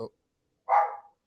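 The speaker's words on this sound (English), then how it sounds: "I'm gonna say ignore the dogs in the background." A dog gives a single short bark in the background, faint and distant, after a brief clipped sound at the very start.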